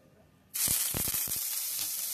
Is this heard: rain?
no